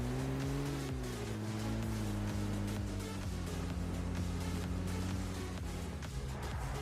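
Vehicle engine in PUBG on the Rozhok map, droning steadily with rising and falling pitch as the car accelerates and shifts, close and continuous, with faint clicks and game effects layered over it.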